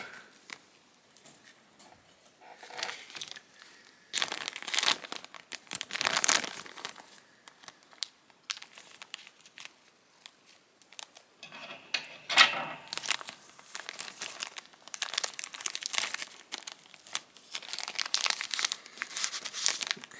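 Plastic packaging around an S.H. Figuarts Venom action figure crinkles and rustles in irregular bursts as the figure is cut free. The sound is close and intermittent, with quiet gaps between handling.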